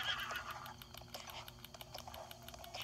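A horse whinnies and snorts in the video game The Legend of Zelda: Breath of the Wild, amid steady clip-clop hoofbeats and outdoor ambience, with a rhythmic repeated ticking running throughout.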